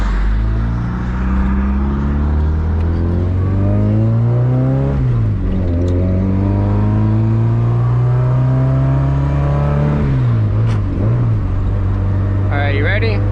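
A turbocharged Honda D16 hatchback pulls hard in third gear, its engine drone climbing steadily, dipping for a moment around the shift, then rising again, loud and close throughout.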